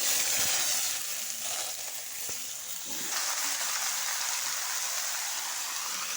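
Chopped bottle gourd hits hot oil with five-spice seeds and gives a loud, steady sizzling hiss throughout, close up with no talking.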